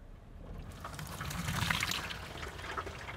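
A 2019 Range Rover Evoque SUV eases down a slope into deep water off-road, with faint splashing and pouring water that builds gently and then settles over about three seconds.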